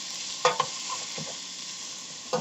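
Vegetables for lentil soup get stirred in a pot, with a soft sizzle and a few spoon knocks and scrapes against the pot, close and fairly quiet.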